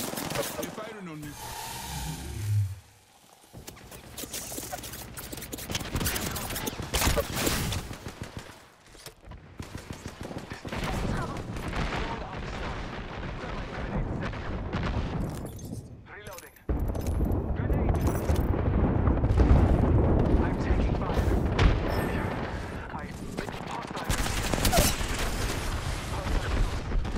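Rapid gunfire rattles through a close-quarters firefight in Rainbow Six Siege, bursts of automatic shots and impacts coming in uneven waves, heaviest toward the end, with voices talking over the action.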